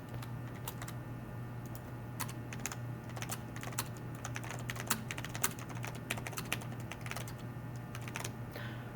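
A computer keyboard clicks close and quietly as keys and the spacebar are pressed in irregular taps over a low steady hum, with no talking.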